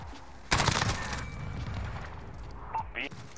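Rapid bursts of gunfire in a competitive multiplayer video game, a loud volley breaking in suddenly and continuing under excited team chatter, with a few sharper shots near the end.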